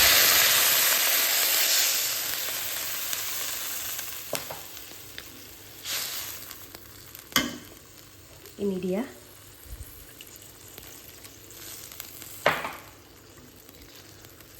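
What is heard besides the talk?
stir-frying cauliflower with water in a pan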